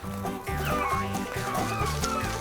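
Rabbit-hunting beagle-type hounds in Daviess County give chase with steady, rhythmic baying and yipping, several dogs overlapping at mid distance in a brushy field.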